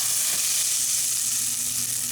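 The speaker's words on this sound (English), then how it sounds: "you always want your oil to be really, really hot because you're going to pour it in here and it's going to sizzle" Steady, bright hiss of hot oil sizzling, filling the whole clip at an even, close level with no voices.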